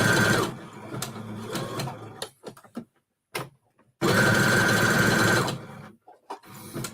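A sewing machine zigzag stitching a one-piece craft project runs in two loud, steady whirring bursts close by, separated by short pauses with a few clicks and handling noises.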